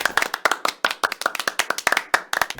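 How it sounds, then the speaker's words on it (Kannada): Rhythmic hand clapping for a daughter-in-law on the Kannada TV game show Smart Soseyandiru: a quick, even run of crisp, close claps, about twenty in under three seconds, with no talking. "ಬರ್ಲಿ ಚಪ್ಪಾಳೆ ಸೊಸೆಗೆ"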